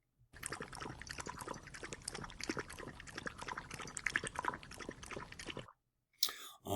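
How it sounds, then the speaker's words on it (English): Close, repeated lapping and slurping as a dog drinks water, a quick wet rhythm running for several seconds, then a short burst of voices after it stops. "It's a dog drinking water."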